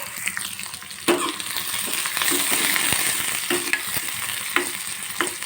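Onions and green chillies sizzle steadily in a hot pan while being stirred, with a constant crackling hiss and several sharp clinks of a spatula against the metal.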